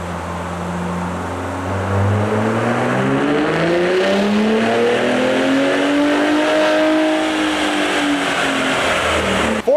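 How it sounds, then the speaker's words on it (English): Gen 3 Ford Raptor engine, tuned with JB4 Map 1 on 91 octane, making a dyno pull: a loud, sustained roar climbs steadily in pitch through the gears for about ten seconds, then cuts off abruptly at the end. "Here is JB4 Map 1 on a Gen 3 Raptor."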